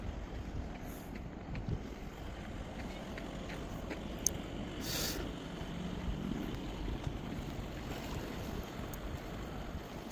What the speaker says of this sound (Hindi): और ये पूरा यहाँ समुंदर है